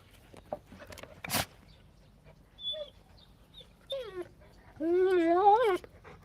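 A big dog whimpering and whining in short bursts, ending in a longer wavering high-pitched whine, with quiet background noise and faint voices between the cries.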